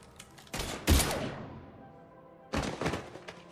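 Weapons fire in the sci-fi shooter game Mass Effect 3: a sharp burst of shots, then a heavy blast with a long decaying tail, followed after a pause by another rapid volley.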